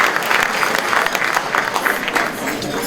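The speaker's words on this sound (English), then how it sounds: "Ladies and gentlemen, a better round of applause for the Prof." A crowd applauds the professor at an inaugural lecture, a dense, continuous burst of clapping filling the room for a few seconds.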